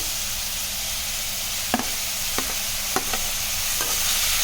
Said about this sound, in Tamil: தக்காளி போட்டு நல்லா வதக்கி விடணும்